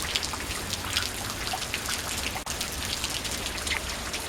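Steady rain falls outdoors, a dense, even patter of drops with scattered brighter splashes, continuous and fairly close with no voices over it.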